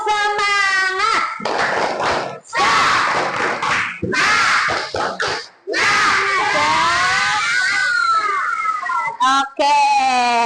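A class of children shout a rhythmic clapping chant of tepuk semangat in a classroom, loud and energetic, with bursts of voices, claps and cheering separated by brief pauses.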